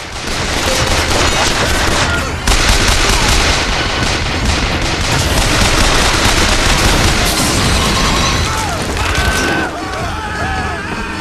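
Rocket blasts from a gunship and sustained gunfire in Bioshock Infinite pound loud and close in a nearly unbroken barrage of bursts and booms, with shouted voices faintly mixed in.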